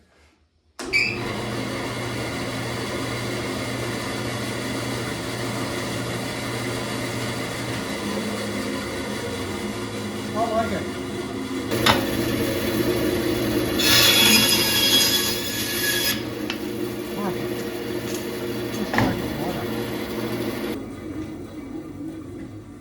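Bandsaw running with a freshly changed blade, a steady motor hum and whirring blade sustained throughout, with a brief louder cutting whine midway and a short spoken remark.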